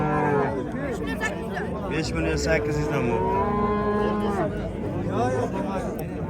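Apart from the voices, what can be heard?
calves mooing at livestock market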